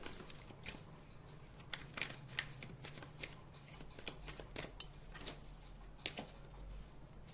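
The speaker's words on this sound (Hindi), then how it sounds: "मैं कुछ और कार्ड्स निकालती हूँ।" Tarot cards drawn and shuffled from a deck, giving soft, irregular papery flicks and snaps up close at a quiet level, with no talking.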